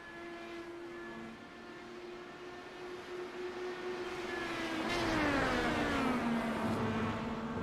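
IndyCar race cars in a racing video game, their engines whining at high pitch as one approaches and passes, the tone rising and then sweeping downward, loud and sustained.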